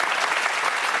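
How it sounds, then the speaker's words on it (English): A studio audience claps in a dense, steady burst of applause that stays loud and continuous throughout, with no pauses and no one speaking over it. "So that gets a big hand from the crowd."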